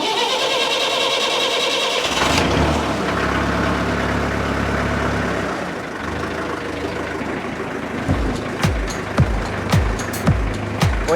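A 60-year-old Someca 435 tractor's diesel engine cranks and catches after preheating, then settles into a rough, knocking idle with several sharp rhythmic bursts near the end, heard close and alone.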